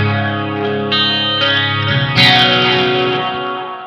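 An electric guitar runs through a Mooer Prime M2 multi-effects preset with a phaser: sustained, distorted chords ring out with a swirling, sweeping modulation and a fresh strum partway through, loud and alone.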